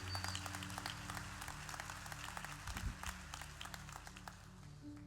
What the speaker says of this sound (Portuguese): Se é para Jesus, pode aplaudir.